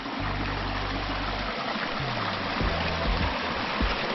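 Copperas Creek water rushes and splashes steadily toward an underwater cave in Red River Gorge, loud and close, with a low droning hum rising and falling underneath.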